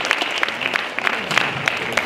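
An audience at a Black consciousness conference claps in dense, uneven bursts of many hands, loud and continuous for the whole moment without speech over it.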